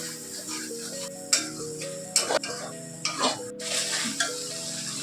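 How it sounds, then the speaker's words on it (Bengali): Ground turmeric, chilli, coriander and cumin fry in a pan for an egg curry, a soft continuous sizzle broken by a spatula's scraping strokes and sharp metal taps against the pan. "মশলাটা ভাজা হয়ে গেছে"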